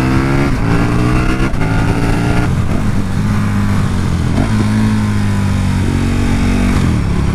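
A 2017 KTM Super Duke 1290 R motorcycle with an aftermarket exhaust pipe rumbles loudly and close, its engine revving and shifting through several throttle swells with no talk.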